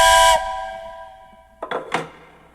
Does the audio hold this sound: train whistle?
yes